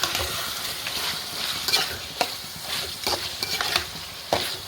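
Ginger garlic paste stirs and sizzles in a hot pan, a steady close frying hiss broken by the scrape and knock of a spoon, with no talk.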